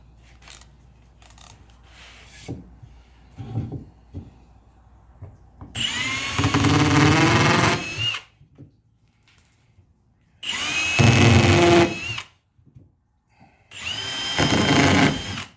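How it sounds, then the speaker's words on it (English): A power drill bores holes in birdhouse wood in three separate loud bursts of whining motor and cutting. Quieter handling noises fill the gaps between them. "I'm just going to drill 3 holes here"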